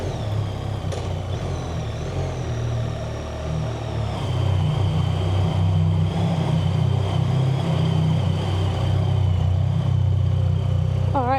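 A BMW R1300 GSA motorcycle rumbles at low revs while riding out of a car park in Croatia, a steady mid-pitched engine drone that swells after a few seconds and holds, close and fairly loud.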